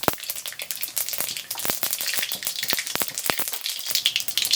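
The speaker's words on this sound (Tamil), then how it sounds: "கடுகு நல்லா பொரிக்கட்டும்." Mustard seeds splutter in hot peanut oil in a kadai, a dense, close crackle of quick sharp pops over a continuous sizzle, with no talk.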